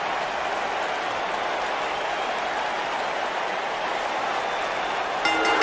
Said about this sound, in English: And you can hear this crowd. This crowd ready for, you know, a big fight.